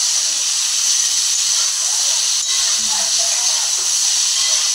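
Cauliflower and potatoes fry in a pan with a steady, bright sizzling hiss that holds at an even level from start to finish, close and fairly loud.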